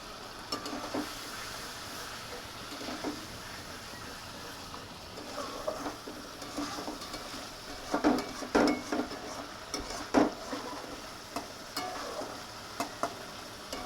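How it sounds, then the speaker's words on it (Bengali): A vegetable curry with a little sugar fries in a pan with a soft, steady sizzle, broken by the scrape and clatter of a spoon stirring, with a cluster of sharper knocks partway through. "এটা একটুখানি ভাজা হয়ে যাক, ভাজা হয়ে গেলেই জল দিয়ে দেবো।"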